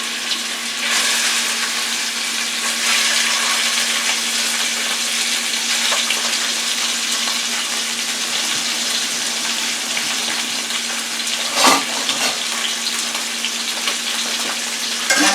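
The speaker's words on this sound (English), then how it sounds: "now I'm going to put the Italian sausage in the frying pan that I have heating up" Italian sausage sizzles and crackles steadily in a preheated frying pan, a continuous bright frying hiss with a brief louder spatter near the end, no voices.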